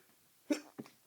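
A man with flu gives a sneeze, a sharp nasal burst followed by a smaller second gust of breath, close and brief.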